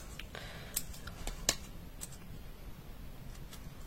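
Scissors cut through vellum paper in a few faint, crisp snips, with a sharper cut partway through, heard close up in an otherwise quiet room.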